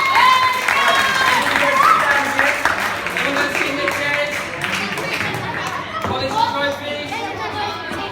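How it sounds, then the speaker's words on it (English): Applause from the audience at a Luton under-7s youth football presentation, steady clapping blended with busy crowd chatter throughout. "Okay, so a big round of applause."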